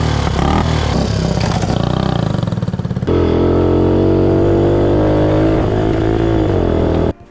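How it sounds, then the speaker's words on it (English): A 1964 Honda motorcycle engine runs close by, loud and rough, with uneven revs in the first few seconds, then a steadier idle before it cuts off abruptly at the end. "I'm gonna get this sweet 1964 Honda running and riding today"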